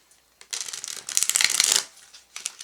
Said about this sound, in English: I'm gonna pre-shuffle all the cards